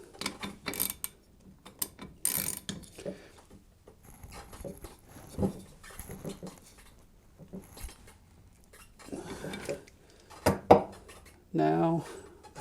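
Metallic ratcheting and clinking as a nut is tightened down onto a boat propeller shaft, a series of short close clicks and scrapes in uneven bursts with quiet gaps between them.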